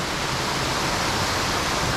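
Waterfall at a resort swimming pool in Phuket pours steadily, a dense, even rush of falling water with no voices over it.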